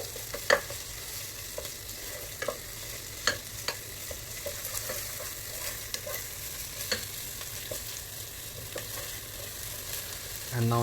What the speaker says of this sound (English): Then on this you can add this garlic and ginger paste. Mix thoroughly with the onions.